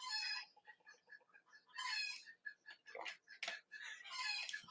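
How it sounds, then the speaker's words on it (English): Chickens cluck and call outdoors in a series of short, bright bursts, some louder and closer, others fainter, with a few sharp squawks toward the end. "There's so many chickens out there."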